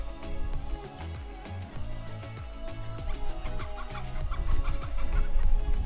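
A chicken clucks and squawks while a dog chases it through a quiet former fishing village square, giving busy, irregular cries over a rhythmic background pulse, with no talk.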